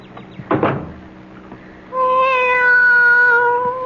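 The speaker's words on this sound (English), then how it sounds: "Be quiet, cat." A cat gives one drawn-out, loud meow close by after a short knock or thump, with no talk.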